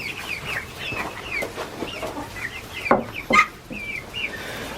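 Chickens cluck repeatedly in a frosty homestead coop, with brief louder squawks near the end; no one talks.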